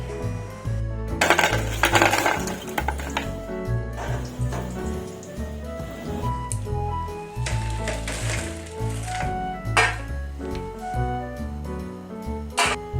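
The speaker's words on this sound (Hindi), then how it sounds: "आपने इनकी आवाज़ सुनी ली होगी, कितने क्रिस्पी बने हैं ये।" Crispy deep-fried potato wedges rattle and clink against a dish or pan in bursts of dry, scratchy tapping, up close and loud, with a little background murmur.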